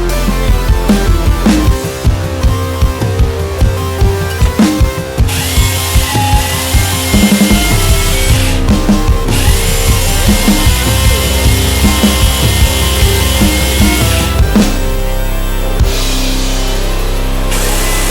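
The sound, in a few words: power drill boring a small hole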